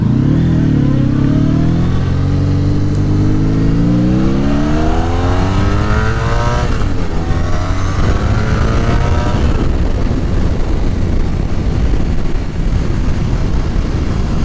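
Honda VFR1200F motorcycle engine accelerating while riding, its tone climbing in pitch through repeated rising sweeps, loud and close, with rushing wind noise underneath.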